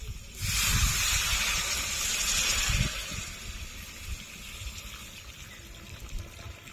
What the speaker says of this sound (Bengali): এবার দিয়ে দেবো জল এখানে গরম জল আছে দিয়ে দেবো